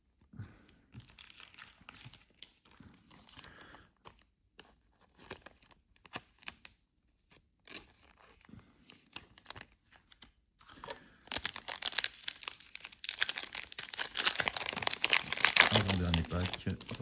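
Foil wrapper of a basketball trading card pack crinkles and tears, with sparse rustles at first building to dense, loud crumpling near the end, close to the mic.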